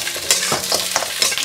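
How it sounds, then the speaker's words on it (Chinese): Washed pork trotters stir-frying in a hot wok for a Hakka braised dish, with loud crackling sizzle and repeated scraping, tossing strokes, no talk. "这猪脚呢洗干净，我们下锅先给它煸香"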